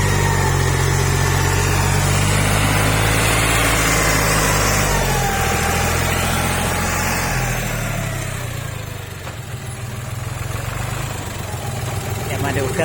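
Tractor engine idling steadily, a four-wheel-drive farm tractor at a dealer in Wang Sam Mo, Udon Thani, Thailand, with a continuous low rumble and a slight dip in level late on, heard up close and loud.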